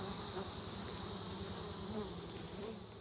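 Swarm of bees buzzing in the hot Arkansas outdoors, a dense, continuous high drone close by that holds steady and fades slightly toward the end.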